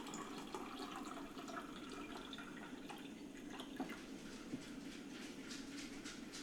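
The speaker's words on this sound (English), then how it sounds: "let's go ahead and put some cold water in there" Cold water pouring into a Brio Moderna bottleless water dispenser, a steady faint gurgling rush with light splashes, continuous and low in level with no talk.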